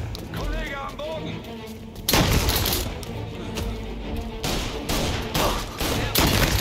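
Gunfire erupts in the video game Mafia: Definitive Edition, several sharp bursts of shots cracking loudly between stretches of game sound, with voices speaking early on.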